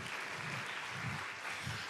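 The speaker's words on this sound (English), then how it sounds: "Please give a warm applause for Emilio Rojas" An audience applauds for visiting artist Emilio Rojas at a talk on racism and antisemitism: a steady, fairly faint wash of clapping with low murmurs underneath.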